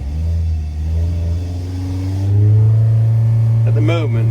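An offset race car engine running on a dyno, a loud, deep rumbling idle that rises in pitch and intensity as it revs up, with a voice speaking over it near the end.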